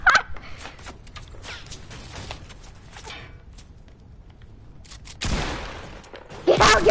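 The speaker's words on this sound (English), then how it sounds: "Oh, people shooting! People shooting!" Video game gunfire crackles in scattered bursts, some sharp and near, others quieter. A louder volley breaks out toward the end.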